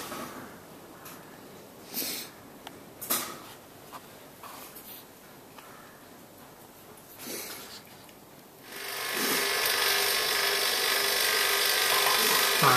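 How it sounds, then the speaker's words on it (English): Old braze is filed away from copper compressor pipework with faint, scattered rasping strokes, followed by a sudden loud steady hiss that continues to the end. "that'll file all the old braze away and then go in again"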